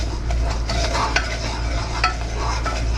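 Milk stirred into a cooked flour roux in a hot pan for bacon Gouda mac and cheese: a steady close sizzle and bubbling with scraping spoon strokes and light clinks, continuous and fairly loud, with no talking.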